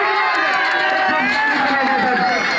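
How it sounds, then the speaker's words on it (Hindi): A large crowd cheers and shouts loudly and continuously, a dense roar of many voices with no pause. "उमर भाई के लिए जोरदार तालियां"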